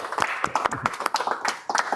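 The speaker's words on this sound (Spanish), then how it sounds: "ya yo quiero que le demos un aplauso porque ya él trajo su doctorado" A small academic audience claps for a lecturer who has earned his doctorate, a handful of people clapping close by in a quick, uneven patter of distinct claps.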